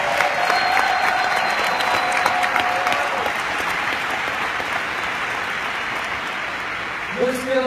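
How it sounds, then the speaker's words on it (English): Audience applause at a company state-of-the-union address, sustained dense clapping from a crowd filling the whole stretch at steady volume, with a faint voice near the end. "Let's give them a round of applause."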